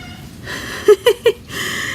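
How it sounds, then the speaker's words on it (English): Three short, bright cat meows in quick succession, fairly close, with quiet room tone before and after. "he will go and meow at her door if she's busy"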